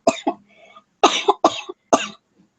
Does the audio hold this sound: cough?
yes